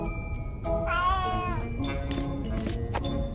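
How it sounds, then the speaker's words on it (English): A cat from the video game A Vampyre Story gives a clear, drawn-out meow with a rising and falling pitch, followed by shorter mewing sounds over a steady game background. "it's a cat."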